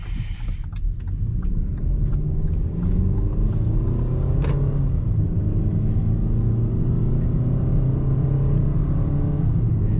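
A 2020 Hyundai Tucson SEL with a 2.4L engine labors uphill on a mountain road, a loud, steady low engine drone with rising strain, heard from inside the cabin with constant road rumble beneath.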